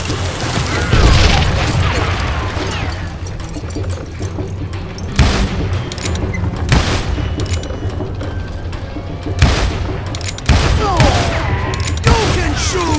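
Rapid bursts of gunfire from a Call of Juarez Gunslinger shootout at a sawmill, loud and close, with heavy booming shots and clattering mechanical noise in dense volleys, and a few voices shouting between them.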